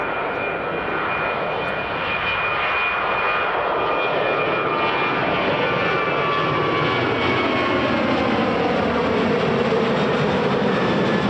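Ryanair airliner's jet engines at Edinburgh Airport, a loud, sustained roar with a rising whine that stays strong throughout, heard close and without talk.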